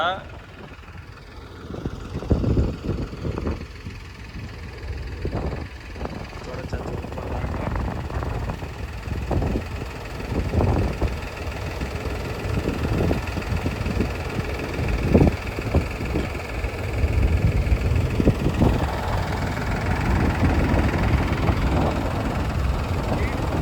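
Several tractor engines run at the Amaravati Iconic Towers construction site, a steady mid-pitched rumble with intermittent clatter throughout, close and continuous under a voice talking.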